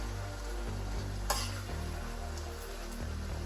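Aubergine stifado cooks down in a pan with a soft, steady sizzle and bubbling and one brief clink of utensils. No one speaks.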